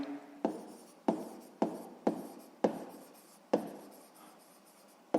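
Pen or chalk writing out a sixth-grade math solution, a series of sharp strokes that each start with a tap and then scratch, about eight strokes in a rough rhythm, close and clear, with no talking.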